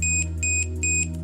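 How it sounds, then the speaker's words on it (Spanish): A high electronic alarm from a PIR motion sensor module beeps in a quick, regular pattern, three short double pulses over a low steady hum. "Y en ese momento me debe activar la alarma"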